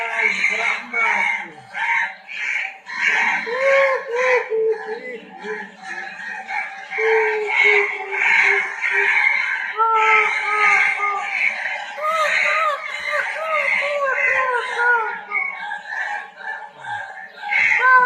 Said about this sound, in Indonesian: Ringtone burung gagak.